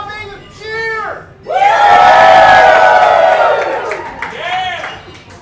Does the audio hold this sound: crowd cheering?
yes